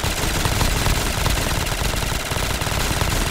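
Dense, continuous rapid gunfire from Call of Duty Zombies fills the whole stretch at close range, loud and unbroken, with no speech over it.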